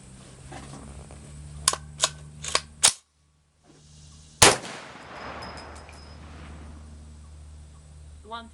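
A .450 Bushmaster rifle fires a cast lead 405-grain bullet over CCI 450 Magnum primers and CFE Black powder at a 50-yard outdoor range, giving one loud, sharp blast with a decaying tail after several softer clicks and brief talk.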